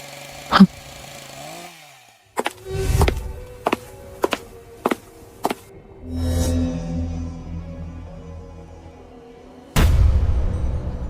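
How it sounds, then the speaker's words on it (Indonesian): Loud mechanical bangs and sharp hits ring out in a series in Sakura School Simulator, followed by a rough chainsaw drone that stops and then roars back loudly. "Kok kayak mesin gergaji ya?"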